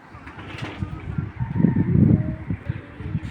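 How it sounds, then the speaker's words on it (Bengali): A female racing pigeon with a club tag coos close by, low throaty rolling coos swelling in the middle, with faint background noise and no speech. "এটা মাদি কবুতর ভাই"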